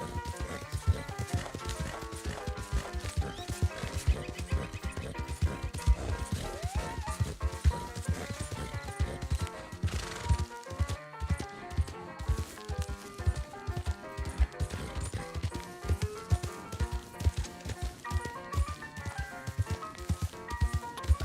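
A horse's hooves drum in a quick, steady rhythm as it is ridden through the Red Dead roleplay video game, under a dense, continuous bed of music and game sounds.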